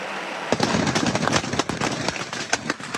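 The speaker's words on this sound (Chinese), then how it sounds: "要近距离感受蜂仔炮带来威力" Beehive fireworks fire at close range during a festival in Yanshui town on a rainy night, a dense, loud barrage of sharp crackling bursts going off in rapid, irregular succession.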